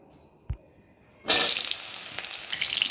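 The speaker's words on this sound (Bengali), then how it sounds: "তারপর ঝিঙেগুলো কড়াইতে দিয়ে দেব।" Chopped ridge gourd pieces hit hot oil in a wok with a sudden loud sizzle after a quiet start and a single soft knock, then a steady close frying hiss continues.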